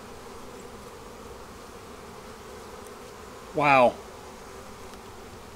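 Honey bees buzz around an open hive during the nectar flow, making a soft, steady hum in the background, and a voice gives a brief exclamation partway through.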